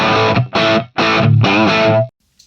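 Distorted electric guitar chords through a Fractal FM9, strummed in several bursts with short gaps, a wash of reverb trailing each one, then a quick fade to near silence.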